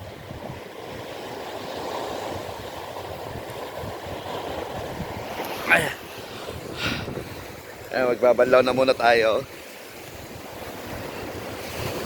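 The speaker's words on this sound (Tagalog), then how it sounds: "Lumalakas na yung hangin. Tapos malaki na rin yung alon." Ocean surf washes steadily onto a beach as wind buffets the microphone, a continuous broadband roar with a couple of louder gusty bursts, while a person speaks briefly over it.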